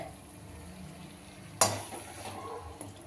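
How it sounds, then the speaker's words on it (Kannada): Cauliflower gobi manchurian being stirred as it fries in a pan: a steady low sizzle with one sharp scrape or clatter of the spoon partway through, then continued frying. "ಗೋಬಿ ಹಾಕೊಂಡಾದ್ಮೇಲೆ ಚೆನ್ನಾಗಿ ಮಿಕ್ಸ್ ಮಾಡ್ತಾ ಇದ್ದೀನಿ."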